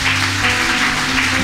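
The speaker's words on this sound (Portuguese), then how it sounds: "Aplauda bem forte ao Senhor." Loud, dense applause from a church congregation clapping for the Lord, a steady sustained wash of hands with no voices standing out.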